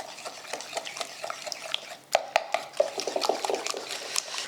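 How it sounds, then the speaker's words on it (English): Spoon stirring orange filo cake batter in a mixing bowl, with repeated soft scrapes and knocks against the bowl's sides in an uneven rhythm, close and moderately quiet, with a few sharper clinks partway through. "I'm just going to mix that all together."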